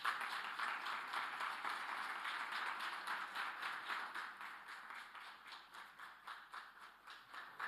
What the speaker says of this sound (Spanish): pediría para ellos un fuertísimo aplauso